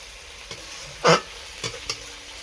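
Spice masala fried in a pan for khichuri, a few spoon scrapes and stirring knocks over a quiet sizzle, with one louder clatter near the middle, close and otherwise sparse.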